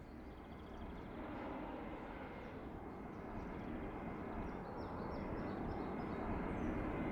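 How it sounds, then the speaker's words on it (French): Airplanes flying overhead on a quiet Sunday during wartime: a continuous broad engine drone, fairly faint and distant, slowly swelling, with no talk. "Comme ce serait délicieux si les avions ne venaient pas troubler notre quiétude."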